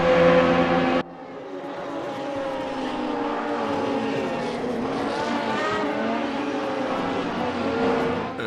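An Audi R18 Ultra diesel prototype race car in the Raceroom racing game drones loudly and continuously from the cockpit, its engine pitch rising and falling through gear changes after a brief louder burst at the start.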